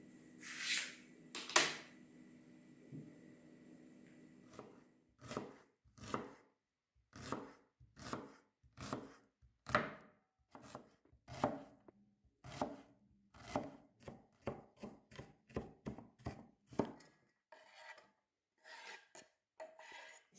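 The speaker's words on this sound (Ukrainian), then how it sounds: "цибульку почистила і зараз буду нарізати на кубики" A knife chops an onion into cubes on a cutting board in a steady run of sharp, evenly spaced cuts, close up, after a few softer rubbing sounds at the start.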